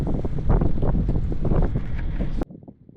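Strong wind roars and buffets the microphone aboard a sailboat getting underway, loud and constant, then cuts off sharply and leaves faint low rumbling, with no talking.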